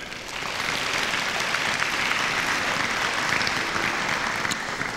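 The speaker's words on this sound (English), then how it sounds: "please join me in giving him a round of applause" Pageant audience giving a round of applause, sustained clapping from a sizable crowd that rises quickly and holds at an even, moderately loud level to the end.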